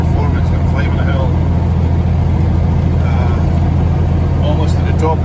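An old truck's diesel engine drones steadily in low gear while climbing Sherman Pass in the Rockies, a continuous loud rumble, with faint speech-like sounds mixed in.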